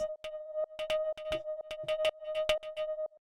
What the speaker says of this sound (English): the next one we have here is the steel drum drone